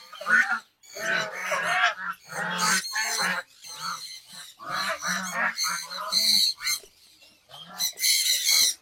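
Geese in a duck and goose enclosure honk loudly and repeatedly, close up, in bursts of overlapping calls with short gaps between them.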